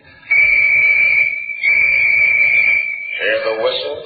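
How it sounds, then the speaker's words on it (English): Two long, shrill whistle blasts with a short gap between them, sounding close and loud in a radio drama about miners dynamiting through a mountain, followed by a voice starting to speak. "Hear the whistles, Delaney?"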